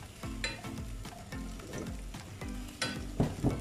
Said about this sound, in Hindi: अब इसको अच्छे से भूनेंगे हम।